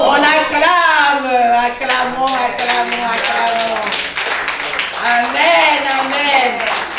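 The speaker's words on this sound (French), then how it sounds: "On acclame." A church congregation claps in a steady rhythm beneath loud singing voices, the sharp claps landing evenly throughout.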